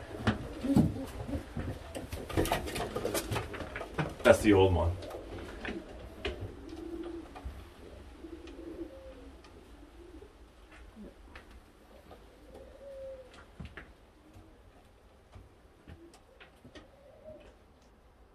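Modena pigeons coo softly in a loft in a low, rolling murmur, repeated at intervals, with scraping and knocking noises early on and a brief spoken remark.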